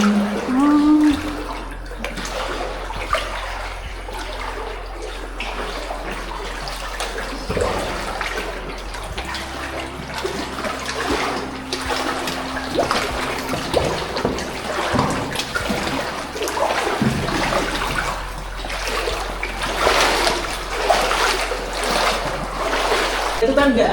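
Water rushes and gurgles steadily through an underground river inside Cerme cave, a constant near wash with splashing surges, while people talk over it throughout.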